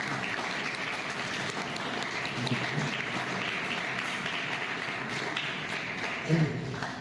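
Steady applause from an audience at a talk, dense clapping spread evenly throughout with a brief louder burst near the end.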